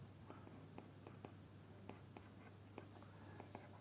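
A pencil sketches a monkey on paper, making soft, quick scratching strokes in an irregular rhythm over a steady low hum, close and faint.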